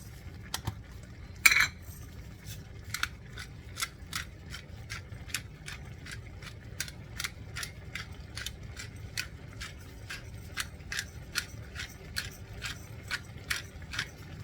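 A spoon scrapes and taps rhythmically against a pan while salt and cracked pepper are stirred into fresh corn for Southern fried corn, making a steady series of sharp metallic clicks at close range.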